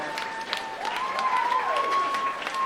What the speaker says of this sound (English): Let's give our actors another big round of applause.